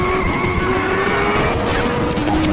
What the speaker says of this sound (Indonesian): dia langsung tancap gas dan berhasil melewati barikade tersebut dengan cukup mudah